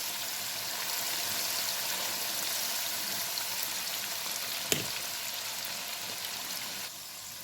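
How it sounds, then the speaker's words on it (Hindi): Homemade nimko frying in oil over medium heat, a soft, even bubbling hiss that holds steady throughout, with one small clink near the end. "आपने इसको मीडियम हीट पे फ्राई करना है और थोड़ी देर के बाद आपने इसको आहिस्ता आहिस्ता स्टर करते रहना है"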